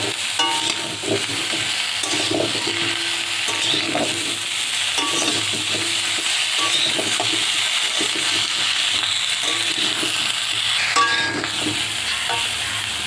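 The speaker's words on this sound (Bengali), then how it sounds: "এবার পেঁপেগুলো দিয়ে দেওয়া হচ্ছে।" Papaya pieces tossed into a hot frying pan with potatoes and cauliflower for a winter vegetable khichuri, giving a steady sizzle with repeated scraping stirs of a utensil throughout, close and fairly loud.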